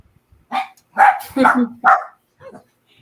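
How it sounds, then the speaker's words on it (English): Several dogs barking indoors, a handful of close, loud sharp barks and yips in a quick irregular cluster, then a fainter pair of barks trailing off. "the dogs are bitching again"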